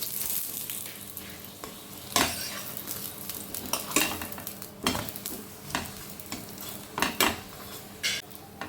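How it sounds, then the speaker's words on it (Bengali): Bengali-style breakfast paratha frying in ghee in a pan, a steady sizzle broken by repeated clinks and scrapes of a metal utensil against cookware, with no voices. "আমি এটা ঘি দিয়ে ভেজে নেব।"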